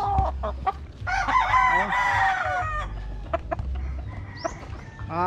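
Stag roosters on a small chicken farm crow loudly and repeatedly at close range, with clucking and other fowl calls between the crows and a voice talking briefly underneath.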